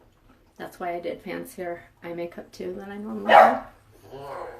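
A dog at home barks once, loud and sharp, right as someone talks, her speech running before and after it.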